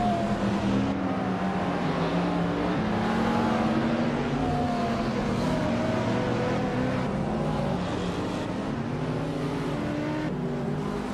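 Race cars launch off the starting line in a racing video game, a dense continuous roar of many engines revving and accelerating together, loud and steady throughout with no voices.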